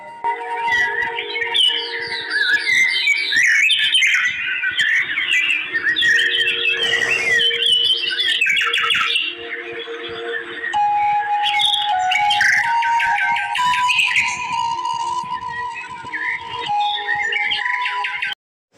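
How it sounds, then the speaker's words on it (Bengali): Many birds call and chirp continuously inside a forest under a bridge by a river, a dense layered chorus of tweets and whistles near and far with no talk. "জঙ্গলের ভেতরে কোনো আওয়াজ নেই শুধু পাখির আওয়াজ"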